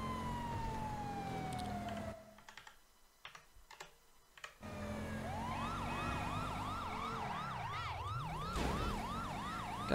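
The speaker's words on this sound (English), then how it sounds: "hear the fucking sirens" Police and emergency sirens in GTA V with the LSPDFR mod wail and yelp continuously, rising and falling in loud repeating sweeps, with a brief muffled dip partway through before the sirens return strongly.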